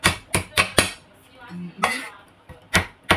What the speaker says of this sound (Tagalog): Pag halu-haluin natin mga sangkap